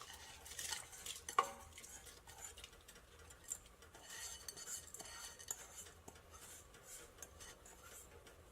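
Soaked rice being stirred in a pot for mutton biryani, faint scraping and light clinks of a utensil against metal, irregular and quiet, with no talking.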